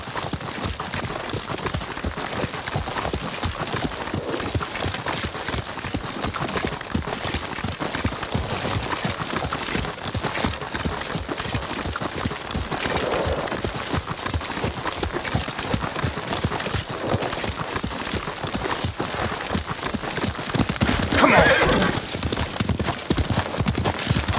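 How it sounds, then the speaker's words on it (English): Rapid, steady hoofbeats of a galloping horse in the video game Ghost of Tsushima run throughout, dense and continuous, with a brief whinny-like cry near the end. "Lord Sakai taught me to ride a horse."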